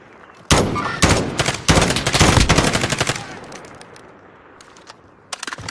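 Gunfire in a shooter video game, with a shotgun mentioned: several loud, close bursts of rapid shots in quick succession, then a quieter stretch ending in a few sharp shots.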